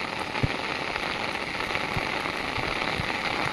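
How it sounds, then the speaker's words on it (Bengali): Heavy rain pours steadily onto open fields and surfaces, a dense continuous hiss with scattered close drops and occasional dull thumps, loud and unbroken with no voices. "এত বৃষ্টি হচ্ছে।"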